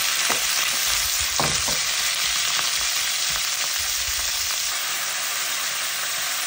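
Ground beef and ginger sizzling loudly in a pan, a dense, steady crackling hiss with a few soft scrapes and knocks from stirring near the start, close and with no voices.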